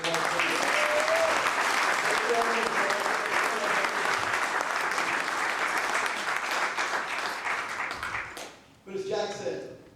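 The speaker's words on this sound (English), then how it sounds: "How about a round of applause?" Audience applause at a youth golf charity reception, sustained dense clapping from a crowd that fades out near the end before a voice resumes briefly.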